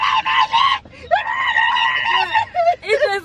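A person screams loudly during a car wash prank, several long shrill yells broken by short gaps, close and harsh, with a brief goat-like squeal near the end.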